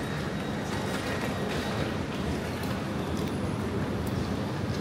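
A passenger train pulls into a station near Lucerne, a steady broadband rumble of wheels and carriages rolling in continuously at close range, with no talk over it.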